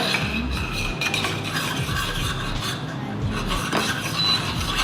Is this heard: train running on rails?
no